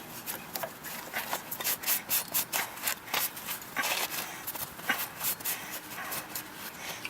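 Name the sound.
wiping excess wax off metal with a sleeve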